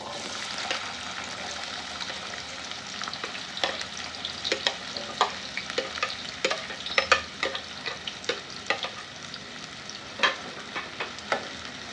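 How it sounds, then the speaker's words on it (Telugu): Chopped onion frying in plenty of hot oil for a dry fish curry, a constant soft sizzle broken by sharp clicks and scrapes as the pan is stirred, growing busier later on. "ఆయిల్ హీట్ అయ్యాక మనం ఇందాక కట్ చేసి పెట్టుకున్న ఆనియన్ వేద్దాం"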